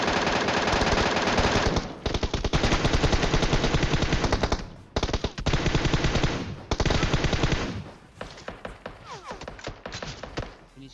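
MK14 rifle fire in the mobile game PUBG Mobile, loud rapid bursts of shots in long sustained strings with brief gaps, ending in scattered single and short-burst shots.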